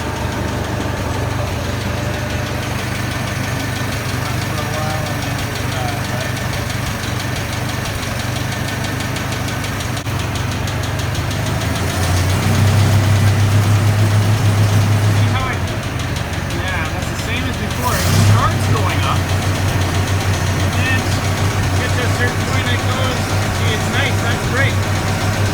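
A Massey Ferguson 65 tractor engine runs cold at a steady, knocking idle, loud and close, with a brief rise in engine note partway through before it settles back to idle.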